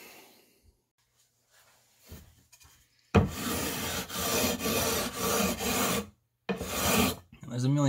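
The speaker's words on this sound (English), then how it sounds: "basically you sand down with a flat surface until all of your frets have been" Guitar frets are sanded with sandpaper on a flat wood block, giving loud, close rasping strokes in several rhythmic bursts after a few quiet taps and handling sounds.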